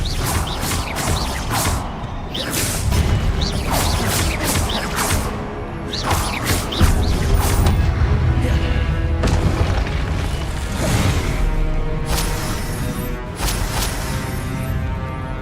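Repeated loud Confringo fire-spell blasts in the video game Hogwarts Legacy, heavy booming explosions with crashing impacts and whooshes that come in quick bursts across the whole stretch.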